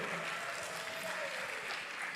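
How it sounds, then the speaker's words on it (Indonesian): Audience applause for the finalist teams at a national Quran competition final, a steady, dense wash of clapping across the whole stretch at moderate distance, with no talk over it. "Beri tepuk tangan yang meriah sekali lagi untuk regu A, regu B, dan juga regu C."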